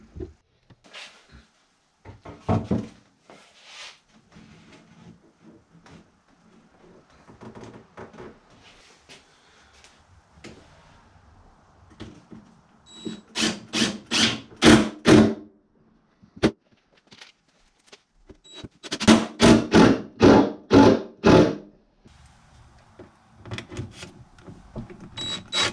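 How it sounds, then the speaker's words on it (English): Screws 1 1/4 inch long being driven into a wooden sofa-table top with a power driver, in several separate bursts of close, loud whirring spaced across the clip. "Then I'm just gonna go ahead and put 1 1/4 inch screws in there."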